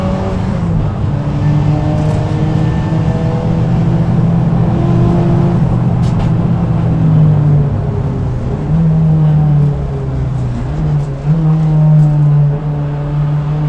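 Renault R21 Turbo Europa Cup race car with about 300 hp through the front wheels, heard from inside on the Charade circuit, its engine droning loud and steady and pitching up and down through gear changes and revs.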